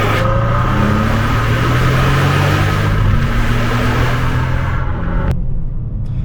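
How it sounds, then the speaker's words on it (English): A powerful 2014 Bentley Flying Spur engine rumbles loudly and climbs in pitch as it accelerates smoothly, then eases off toward the end. "Let's do a little acceleration and see how it feels."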